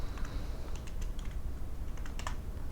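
Typing on a computer keyboard while naming a rubber shaft seal part in CATIA V5 3D modeling software; quick, irregular clicks and clacks at close range, alone over a low background hum.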